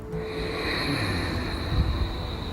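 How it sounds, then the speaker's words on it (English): Close, steady ujjayi breathing through the throat, a soft continuous hissing rush with a slight raspy edge. "It's an audible breath that travels in through the nose"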